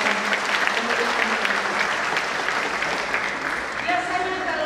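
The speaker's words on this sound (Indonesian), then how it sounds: "Saya mau ajak kita semua tepuk tangan yang panjang untuk selamat dalam kemuliaan." A church congregation at a new church building's dedication applauds for a long stretch. The clapping stays dense and continuous throughout, with voices mixed in near the end.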